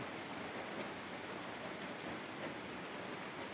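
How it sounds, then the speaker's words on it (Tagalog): Steady rain falls in a soft, even hiss, distant and unbroken, on an afternoon beside a bamboo house, with no voices. "umuulan na hapon umuulan na hapon"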